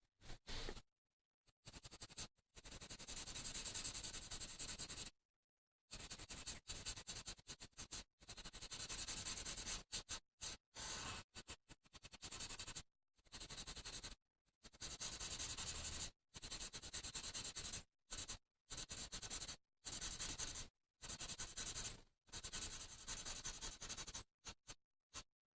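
Pencil filling in a drawing of Frankenstein's monster, close, soft scratchy rubbing strokes repeated in steady bursts separated by brief silences.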